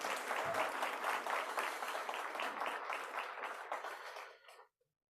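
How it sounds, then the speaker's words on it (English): A burst of applause from a room full of people, steady and lively for several seconds before it abruptly stops. "A big round of applause for our director."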